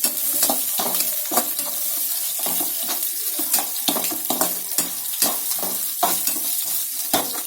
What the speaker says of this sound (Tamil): அதுக்கப்புறம் 2 பச்சை மிளகாய் போட்டுட்டு நல்லா மிக்ஸ் பண்ணுங்க.